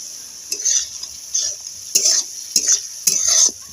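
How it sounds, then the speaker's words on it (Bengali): Flattened rice (chira) fried and stirred in a pan: rhythmic scraping strokes of a spatula, about five distinct pushes over a soft sizzle, close and fairly loud. "আবারও একটু আমি ভেজে নেব"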